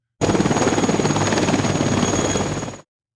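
A cartoon helicopter whirs loud and steady with a fast, even rotor chop that runs unbroken for a few seconds, then cuts off abruptly.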